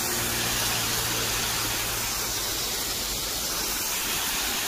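Hot water gushing steadily from a pipe outdoors along a pilgrimage walking route, a dense continuous broadband rush like a small waterfall, loud and unbroken throughout.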